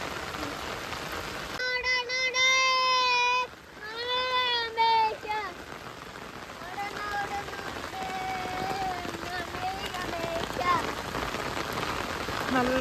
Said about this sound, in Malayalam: നല്ല ഒന്നാന്തരം മഴയല്ലേ?